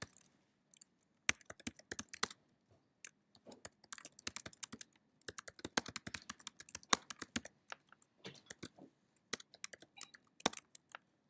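Typing a C++ program on a computer keyboard, irregular bursts of close, crisp key clicks with short pauses between runs, heard alone without talk.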